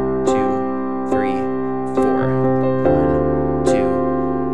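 Worship-style piano chords repeat in a steady quarter-note rhythm: a sustained chord struck on the beat, with lighter right-hand stabs following evenly, about one chord change per second, clear and close.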